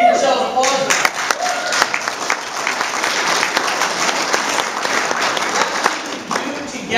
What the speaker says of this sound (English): Halloween, give yourselves applause.